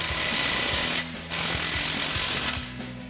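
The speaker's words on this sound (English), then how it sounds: "We'll go ahead and snug this clamp down" A power tool rattles in rapid bursts, snugging down an exhaust clamp on an AWE 0FG dual exhaust system for a 2019-2024 GMC Sierra 1500. It is a loud, close mechanical chatter with a brief pause partway through.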